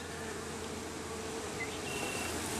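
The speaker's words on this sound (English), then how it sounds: "I got bees landing on my face." Honeybees swarming close around a beekeeper while a box of bees is hived, a dense continuous buzzing hum with no pauses.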